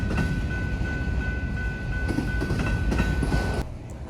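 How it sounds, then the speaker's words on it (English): A slow train rumbles past a road crossing used by East Leyden students, a steady loud roll of railcars with a constant bell-like tone ringing over it, plus occasional clacks, easing off near the end. "waiting for the slow trains to pass"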